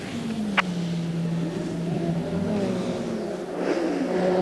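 A V8 Elan race car engine runs steadily at the 2007 IMSA 12 Hours of Sebring, a continuous close drone that swells slightly near the end, with a brief sharp click early on.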